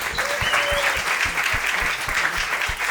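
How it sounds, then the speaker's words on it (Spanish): Studio audience applause at a season finale of a Spanish talk show, dense continuous clapping with a few sharper close claps, sustained evenly throughout. "Un aplauso para todos ellos"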